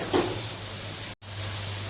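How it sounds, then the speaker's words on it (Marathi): Onion frying on a high gas flame gives a soft, even sizzle that carries on for about two seconds, broken by a brief dropout near the end. "कांदा मोठ्या गॅसवरती भाजून जातं"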